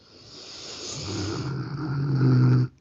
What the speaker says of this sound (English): But you have the calming sound of Bruno's snoring.